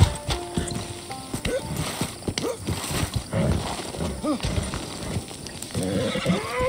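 A horse neighs in several shaky whinnies over a busy, layered Red Dead Redemption 2 soundscape with a voice talking now and then.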